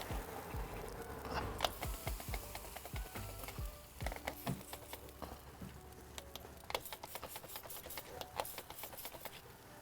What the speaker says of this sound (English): Spritzing with a dark mild beer.